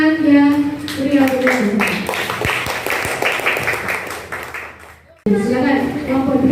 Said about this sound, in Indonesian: Kelompok 1 yang sangat bagus, kita beri tepuk tangan yang meriah.